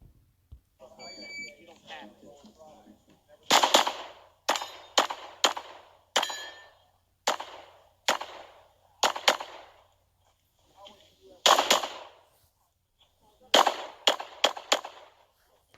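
Glock 45 pistol fired at a USPSA match stage: loud, sharp shots in quick strings and pairs with brief pauses between, about fifteen in all, after a few seconds of faint background chatter.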